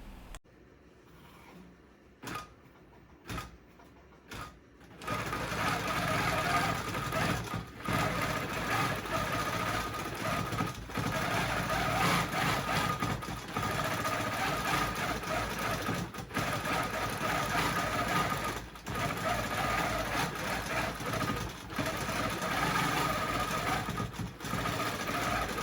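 A ProStitcher-guided longarm quilting machine stitches out a pattern, a steady loud mechanical whirring hum with slight jerky pulses, preceded by a few short isolated clicks.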